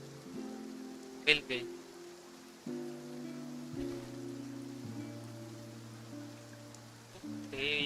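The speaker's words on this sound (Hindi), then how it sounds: "Looks like rain." Rain falls in the Fontaine area of Genshin Impact as a soft, steady hiss beneath sustained game music, with someone speaking briefly over it.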